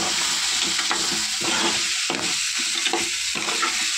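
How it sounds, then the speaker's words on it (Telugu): Crab curry seasoned with chili powder fries in a pan with a steady, close sizzle, with occasional stirring scrapes and no talk. "అందులో వేసేసి కొంచెం కాసేపు అలాగా వేగనివ్వాలి."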